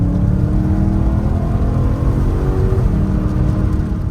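A Frozen Grey BMW E92 M3 drops a gear and accelerates, its engine holding a loud, steady droning roar close by throughout.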